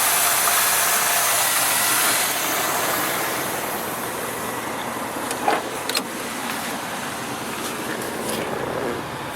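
A bone-stock demolition derby car's engine runs at a steady idle with a smooth, even hum, joined by a couple of brief mechanical clicks partway through.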